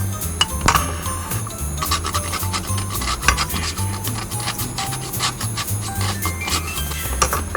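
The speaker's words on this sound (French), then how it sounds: "Je vais les râper." Homemade chocolate being grated by hand for coating truffles, a steady close rasping and rubbing with light scraping strokes repeated throughout, no talking.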